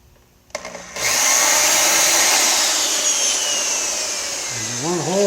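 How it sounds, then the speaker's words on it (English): Power drill boring a hole into a 1984 C4 Corvette under the hood, a sharp click then a steady high-pitched whine that holds for several seconds before winding down with wavering pitch. "we're going to drill a little hole in here and wire a loop up in here"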